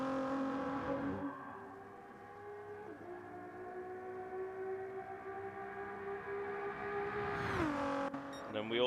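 Race cars lapping the Spa circuit in a racing video game, including a Ford GT and an AMG, whose engines rise and fall through gear changes as cars pass, with a loud roaring sweep near the end.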